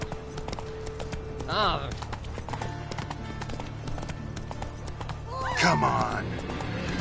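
Roach, the horse in The Witcher 3, galloping with a steady hoof rhythm under a continuous game soundscape, while someone speaks briefly twice.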